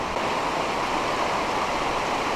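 Steady broadband rush of stream water flowing over small rocks outdoors, continuous and fairly loud throughout with no voices.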